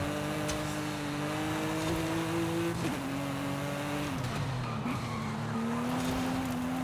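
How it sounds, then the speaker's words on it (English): In Forza Horizon 5, a race car drifts and slides off the track during a track day, its engine holding a loud, steady drone as tires skid and squeal. The engine pitch drops and climbs again as it slides. "we're sliding off the course"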